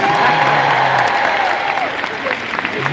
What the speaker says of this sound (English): a big round of applause for Captain Hook, please